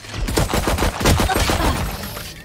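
Gunfire in the shooter game Valorant after the spike is planted: a loud, dense, continuous volley of rapid shots, close and overlapping, with no voices over it.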